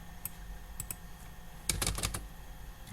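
Commands typed on a computer keyboard, with a few scattered keystrokes followed by a quick cluster of clicky taps over a steady background hum.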